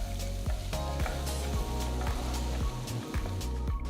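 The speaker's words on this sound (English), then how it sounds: "Saute the onions till they turn to a nice golden color." Chopped onions sauteing in hot oil with mustard seeds, hing and green chilies give a steady close sizzle, broken by repeated soft stirring scrapes roughly every half second, with no talk.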